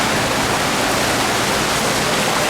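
A high school boys' swim team splashing in an indoor swimming pool, a dense, steady wash of water noise filling the room with no clear breaks or voices.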